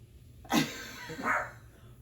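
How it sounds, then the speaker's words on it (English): A dog barks twice, a sharp bark followed a moment later by a softer one, fairly close against a quiet room hum. "Oh, if you can hear, that's my dog."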